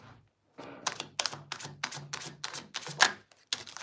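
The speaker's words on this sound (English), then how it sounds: "I always feel like they want me to shuffle the whole thing." A deck of tarot cards is shuffled by hand, giving a quick run of crisp riffling slaps and clicks close up after a brief pause, with no voices.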